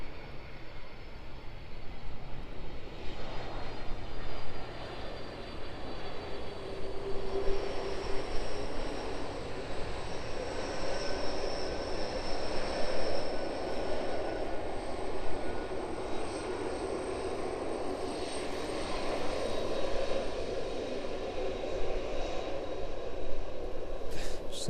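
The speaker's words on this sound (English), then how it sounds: "This one still carrying a bit of speed, using all of the runway available to it this evening as it rolls out there." Aircraft landing at East Midlands Airport in the evening and rolling out along the runway at speed, a broad sustained engine roar with reverse-thrust rumble, fairly distant and steady throughout.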